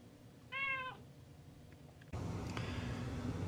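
A single clear cat meow sounds nearby over quiet background hum, followed by a louder, rougher noise floor later.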